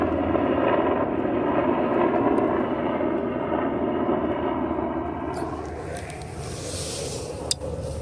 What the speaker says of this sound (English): Got a helicopter going by.